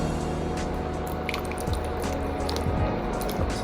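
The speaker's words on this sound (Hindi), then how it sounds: "अब बारी है स्लरी डालने की" Cornflour slurry is poured into boiling Manchurian sauce over high flame, giving a steady close liquid pour and bubbling with soft splashy squishes throughout.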